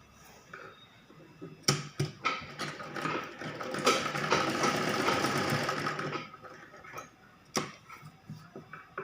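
A sewing machine stitches fabric for a baby frock, with short rattling starts followed by a sustained run of rapid clattering stitches in the middle and a few sharp clicks afterward, close and moderately loud.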